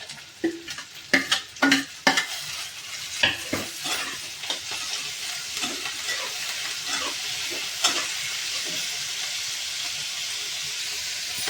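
Tomato chutney ingredients, including tomatoes and peas, are tossed quickly into hot oil and sizzle loudly. Several sharp spits come early, then a steady frying hiss continues with stirring. No one speaks.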